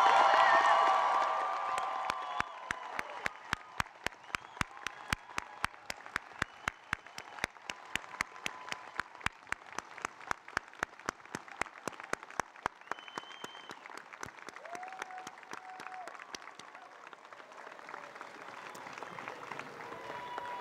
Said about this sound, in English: Let's give all of the new graduates a rousing round of applause.